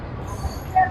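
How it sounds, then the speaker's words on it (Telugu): The Nagarsol superfast express starts to pull out of the station, heard as a brief low rolling rumble with a short metallic squeal near the end. "ప్రజెంట్ కాజీపేట ట్రైన్ అయితే స్టార్ట్ అయింది"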